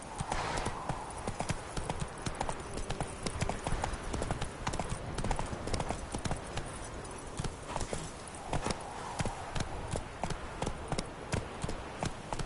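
Horse hooves clip-clop steadily through a PS4 video game scene, a continuous close trotting rhythm with occasional louder hoof strikes and brief breathy snorts, no talk over it.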